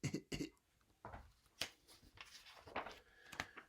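A person imitates a flea's tiny cough with a series of small, quiet coughs and throat-clearing sounds, spaced irregularly with short pauses between them.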